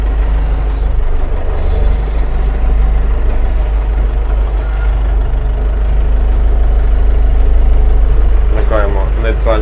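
A Scout TU-404S mini tractor with cab runs loud and close in reverse with a steady low chugging rumble throughout, and a voice speaks briefly near the end.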